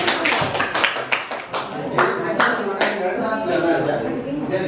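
Classroom clapping for a student group during a teaching session, a burst of uneven hand claps from a small group at close range, fading into murmured chatter and voices.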